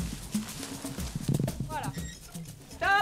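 A mare drags a heavy log of several hundred kilos up a steep slope in the Pyrenees mountains, her hooves clip-clopping unevenly, with harness creaks, a whinny and a person's voice mixed in.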